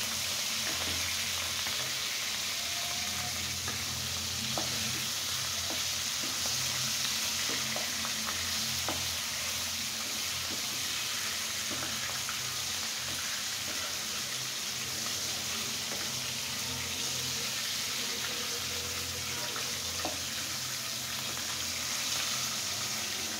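Leafy greens frying in a pan, a steady soft sizzle with occasional stirring clicks and scrapes running continuously throughout, fairly quiet and close.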